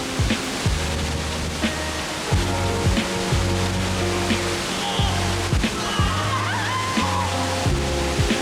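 River water flowing beside a hot spring onsen on Japan's Izu Peninsula, a constant rushing wash under intermittent low mechanical-sounding hums and faint tones, with a voice talking briefly.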